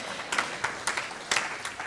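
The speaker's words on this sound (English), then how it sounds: "I'll take the applause." Faint, sparse clapping from a small audience at a Sunday forum, a few scattered claps and light applause heard from a distance.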